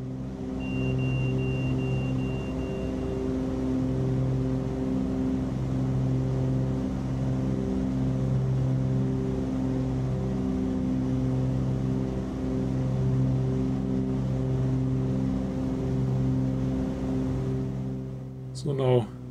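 A Cessna 414 Chancellor lands in a flight simulator, its engines a steady, loud, droning hum that holds throughout. A short burst of noise comes right at the end.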